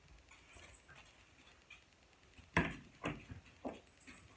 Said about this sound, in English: please excuse the noise about my dog